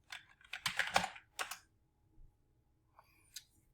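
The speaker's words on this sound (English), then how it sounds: "You can just type the word Paint." Typing on a computer keyboard to search for Paint: a quick close burst of key clicks, then a few isolated taps after a pause, quiet and alone.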